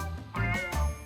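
A stray street cat meows twice in short, close calls, each a brief wavering cry with a light tinkling quality, separated by a pause.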